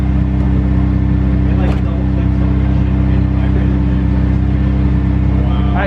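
A Mazda Miata with a custom exhaust idles and revs, giving a loud, steady engine rumble with a deep low drone throughout and a brief rise in pitch partway through, while people talk over it.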